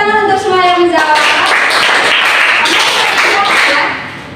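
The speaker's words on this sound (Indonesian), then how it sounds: "tepuk tangan untuk semua yang menjawab" A classroom of students clapping during a microteaching lesson, a dense burst of claps filling most of the clip after a brief voice at the start, then fading out near the end.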